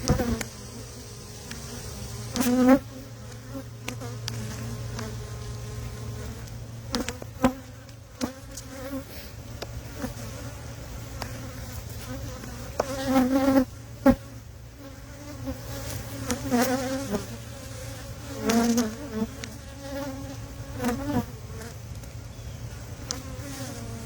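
Honey bees buzzing around an open hive, a continuous close drone of many insects with occasional louder passes near by and faint handling knocks, no talk.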